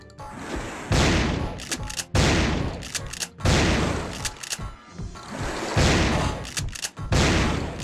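Heavy weapons fire in Turok 3: Shadow of Oblivion comes in repeated loud bursts, several long booming volleys separated by short pauses, each blast hitting hard and close.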